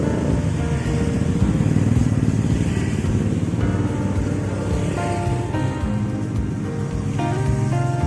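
A motorcycle passes along a road with continuous steady engine rumble and road noise throughout, loud and fairly close, with no talk.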